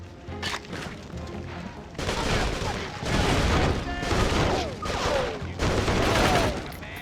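Video-game gunfire in Urban Chaos: Riot Response, a 2006 police shooter, with bursts of shots and crashing impacts in loud clusters separated by brief pauses, mixed with chaotic game action.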